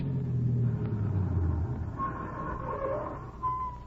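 A car engine rumbles and draws nearer, its low drone swelling and shifting in pitch over a few seconds.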